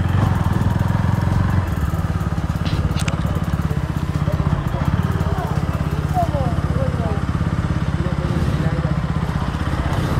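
Engine of a KTM Duke 200 BS6 motorcycle while riding, a steady loud drone with constant wind rumble and no clear gear changes, under occasional talk.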